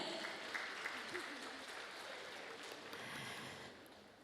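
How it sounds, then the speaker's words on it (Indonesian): Faint, distant applause from a crowd of primary-school religious-education teachers for the organizing committee at a halal bihalal gathering, soft continuous clapping with a voice faintly present beneath it. "Luar biasa, sekali lagi tepuk tangan untuk panitia."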